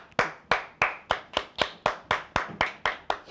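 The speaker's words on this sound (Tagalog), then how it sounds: "Para kaming popcorn yung palakpak namin" An audience claps in a steady, evenly spaced rhythm, about three sharp claps per second, loud and close, with no talk over it.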